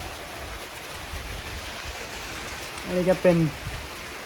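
Rain falls outside a house at dusk, a steady broadband hiss throughout, with a person briefly speaking near the end.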